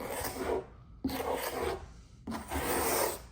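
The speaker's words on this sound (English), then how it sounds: "we're just slowly scraping layer by layer" Scraper rasping across car paint to strip old, 15+ year-old clear bra protective film, three rough rubbing strokes separated by short pauses, close and fairly loud with no talking.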